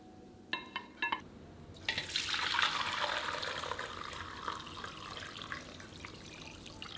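Chashu braising sauce is poured through a filter into a container holding pork belly, a few light clinks giving way to a steady liquid splash and trickle that carries on close and fairly quiet.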